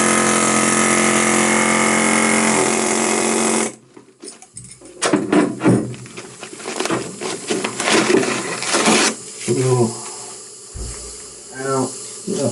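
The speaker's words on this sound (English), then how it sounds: "What I'm going to do is just get an air chisel, see if I can break enough off these blocks" An air chisel hammers at concrete blocks in the steel bilge of a trawler, starting with a loud, steady hiss and clatter that cuts off abruptly, followed by irregular bursts of chipping and knocking.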